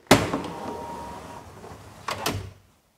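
A classic car door, at a show of Jaguar E-Type and other classics, shuts with a sharp thud, followed after a quiet pause by a second double knock as it is pushed fully closed.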